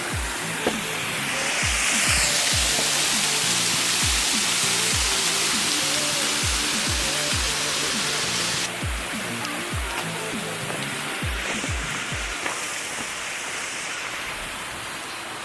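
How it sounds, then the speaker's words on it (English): A waterfall roars steadily, heard from right over its edge as a dense, broad rush of falling water that stays loud and constant throughout, with no one talking. "here's a nice shot looking straight over the edge of the waterfall"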